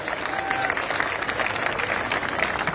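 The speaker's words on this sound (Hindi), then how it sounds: "एक बार जोरदार उनके लिए तालियां" A crowd at the Run for Unity event at Amar Jawan Jyoti in Jaipur applauds the Chief Minister, a dense, steady wash of clapping from many hands heard at moderate distance.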